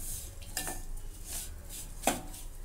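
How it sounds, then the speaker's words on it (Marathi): Gram flour (besan) roasting in a pan, heard as a few faint, sparse metal clinks and scrapes of a spoon against the pan over a quiet background. "आता हे बेसन भाजून घेते त्याच्याबरोबर 1-2 मिनिटं"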